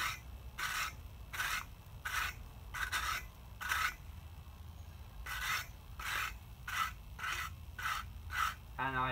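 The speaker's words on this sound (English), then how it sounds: "And really wire brush it down." A wire brush is scrubbed over a fire brick in a regular run of rasping strokes, each a short scrape, close and fairly loud, with a brief pause midway and no talk.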